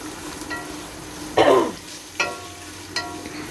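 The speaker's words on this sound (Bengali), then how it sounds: "হঠাৎ রাঁধতে সময় একটু কাশি চলে এসেছে" One sharp cough breaks over a quiet background of frying, followed by two shorter throat-clearing bursts.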